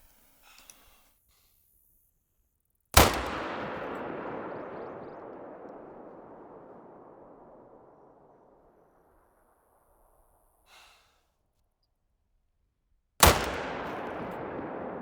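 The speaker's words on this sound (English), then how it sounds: "Guess they were too far away to even notice the rifle blasts." Two loud rifle shots from a hard-hitting Reaper rifle ring out outdoors during a hunt, about ten seconds apart, each a sharp crack followed by a long rolling echo that fades slowly.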